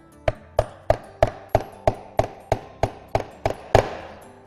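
A hammer drives a nail into a countertop to make a starter hole: about eleven sharp, evenly spaced metallic taps, close and clear with short decays, the last few slightly quicker.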